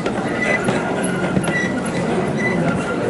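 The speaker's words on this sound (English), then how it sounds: "Here comes the train again." A toy train runs through a hotel Christmas decoration display at Walt Disney World, a steady clattering rumble of small wheels on track with faint squeals, continuous and fairly close amid busy ambient room noise.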